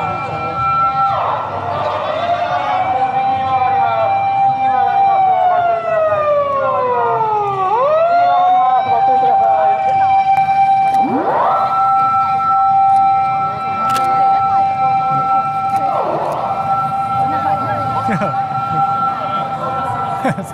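A fire truck siren on an Osaka street wails continuously nearby, its pitch swooping down and back up several times over steady traffic noise.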